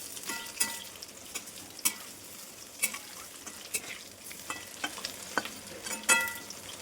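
Pakoras frying in hot oil in a pan on a rainy day, a soft bubbling sizzle with scattered sharp crackles and pops recurring irregularly, fairly quiet and close, with no voices.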